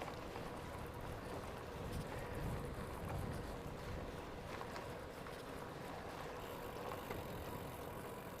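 Outdoor wind buffeting a microphone on a bike tour in South Korea, a steady dense rumble and roar that never lets up, close and fairly faint overall.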